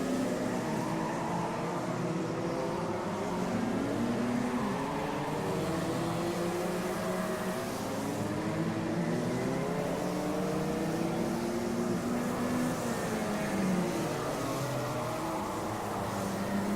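Race cars lapping the Villars circuit create a continuous, layered engine drone. Several overlapping engine tones rise and fall in pitch as the cars pass, steady and fairly loud throughout.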